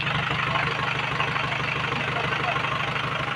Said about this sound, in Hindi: ये साउंड देख सकते हो ट्रैक्टर का,